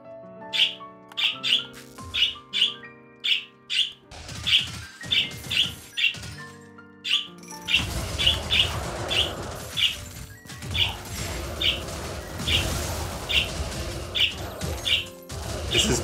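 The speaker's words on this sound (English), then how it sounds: "Well, now both birds have a few things to say." Cartoonish birds in the fantasy action game Wizard of Legend chirp and squawk in quick, repeated bursts over game music and sound effects, growing busier and louder in the second half.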